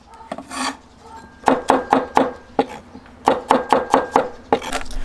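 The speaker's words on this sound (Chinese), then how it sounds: "切点这个姜蒜片，炝锅用。" Ginger and garlic sliced with a kitchen knife on a chopping board: two quick runs of about five crisp, evenly spaced chops each, close and clear, with no talking.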